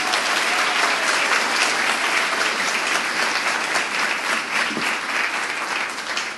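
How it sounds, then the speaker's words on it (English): A convocation audience at the San Diego Central Library applauds in a dense, steady, loud round that holds throughout before easing slightly at the end. "Let's give them one more round of applause"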